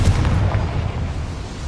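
Confringo fire spell detonating in Hogwarts Legacy inside a small mine, a single heavy low boom that rumbles on and fades over a couple of seconds with no talking.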